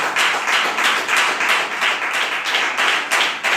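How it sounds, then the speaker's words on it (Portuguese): A church congregation claps hands in praise during a Portuguese-language evangelical service, producing a loud, steady, rhythmic beat of many hands close by, with no voices over it. "Palmas para Jesus."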